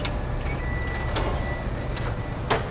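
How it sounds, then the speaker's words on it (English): Paper moving out of the fuser into the cooling module of a Xerox Color 800/1000 Press, a steady mechanical rumble and whir with light clicks and a brief thump near the end, close and continuous. "This is where the paper exits the fuser and goes into the cooling module."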